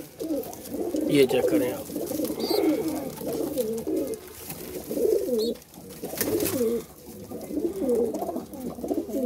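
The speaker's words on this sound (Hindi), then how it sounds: "ये रेड आइज कबूतर हैं जी हमारे" Red-eyed pigeons cooing nearby, repeated throaty coos in bursts with brief pauses, while someone speaks over them.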